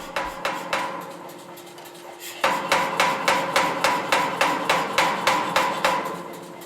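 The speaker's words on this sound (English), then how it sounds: "Now I'm forging the bevels in a little bit by hand." Hand hammer blows forge the bevels on a stainless san mai dagger blade. A few scattered strikes are followed by a close, loud, steady run of evenly spaced ringing metal impacts.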